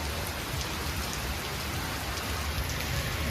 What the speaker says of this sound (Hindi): बारिश चालू कर दिए हैं